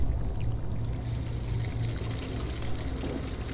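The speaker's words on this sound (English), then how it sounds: "I'm gonna throw a water bomb in there." Water splashes and pours in a zombie video game as a thrown water bomb bursts, a rushing, gurgling liquid sound that stays steady and fairly close throughout.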